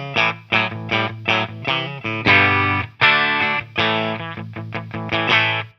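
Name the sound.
clean electric guitar through Kaufman Cozy pedal, Fender Deluxe Reverb amp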